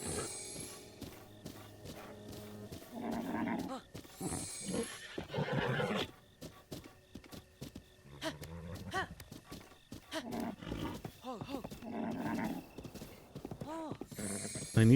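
Horse in Breath of the Wild whinnying in loud bursts over clopping hooves, with a voice talking between the calls.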